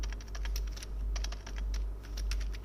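Fast, steady typing on a computer keyboard while writing HTML form code, with close, crisp clicking in quick bursts over a constant low hum.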